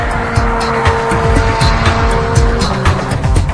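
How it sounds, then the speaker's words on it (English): A performance car engine roars loudly and continuously, with tire squeal and skidding mixed into the close, intense mechanical noise. "Under the hood of this car is the latest in a long line of performance engines"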